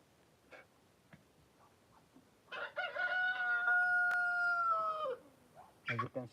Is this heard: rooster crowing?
yes